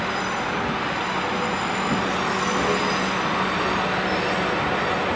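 A Class 444 electric train, unit 444039, runs in from the sidings at Bournemouth station, a steady close rumble and hum with no voices.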